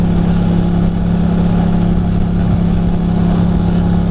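A Yamaha MT-09 motorcycle engine idles close by with a steady, even hum that holds without pause or revving, and no voices.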